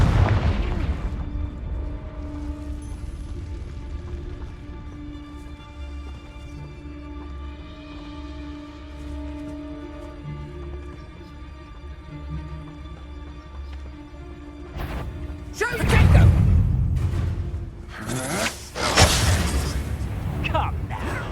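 Confringo fire spells blasting in Hogwarts Legacy: after a stretch of sustained orchestral game music, two heavy booming explosions burst out close and loud, the second following a few seconds after the first.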